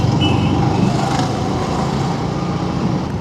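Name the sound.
tempo (small truck) passing on the road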